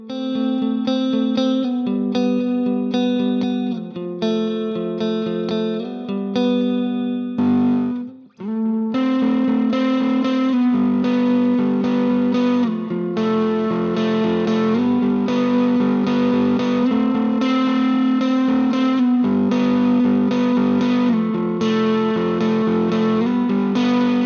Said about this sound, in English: going to the multi-tape head setting and then going to mode C, which gives it this more of a repeating sound